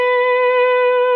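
One clear, sustained electric guitar note played with a slide, ringing close and steady at an even pitch for about a second, with nothing else behind it.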